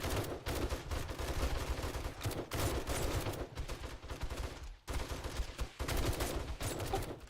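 Rapid, sustained gunfire from the survival video game 7 Days to Die, a dense and loud stream of overlapping shots with only brief breaks.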